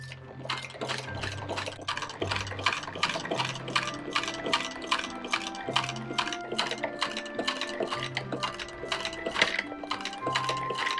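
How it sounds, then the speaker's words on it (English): An antique 1877 Singer 12 sewing machine in perfect working order stitching fabric, a steady rapid mechanical patter with repeating needle clicks and low hum, running in bursts throughout, close and moderately loud with no talking. "I used my old Singer 12 machine from the year 1877"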